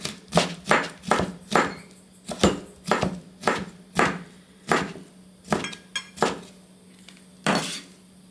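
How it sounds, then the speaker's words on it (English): Steady knife chops through tofu on a cutting board, about a dozen sharp knocks in a slightly uneven rhythm, close and clear with no talking. "I'm not going to edit any of this cutting noises because I like my video to be natural"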